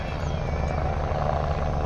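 A helicopter drones loudly and steadily nearby at a campaign rally in Pusad, its rotor thrum filling the air without pause.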